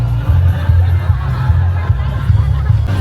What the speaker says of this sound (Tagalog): Muna no mga crowd diri sa Rosquillos Festival.